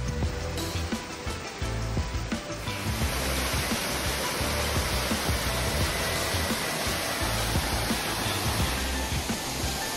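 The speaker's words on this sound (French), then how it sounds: "voici la magnifique cascade dans laquelle nous allons nous baigner." A waterfall at Angkor, Cambodia, reached along a jungle trail, roars as a loud, steady, broadband rush of falling water that fills the whole stretch without pause.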